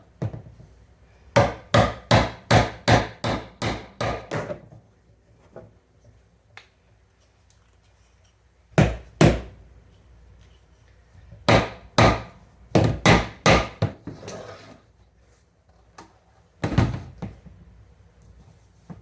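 PVC fittings on a hydroponic kit are struck in quick runs of sharp, hollow knocks, with several bursts of evenly spaced hits separated by quiet pauses, close and fairly loud.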